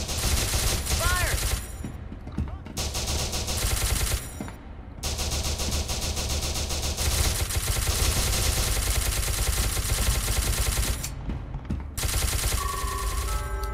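Sustained automatic gunfire from a firefight in the video game SCP Secret Laboratory, loud and dense bursts filling nearly the whole stretch with only brief gaps.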